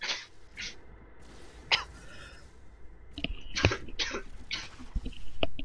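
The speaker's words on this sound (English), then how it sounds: "A bit of a cough fit." A person has a brief fit of coughing and throat noises during a Dota 2 match commentary. The coughs come as several sharp, close bursts spread unevenly across a few seconds.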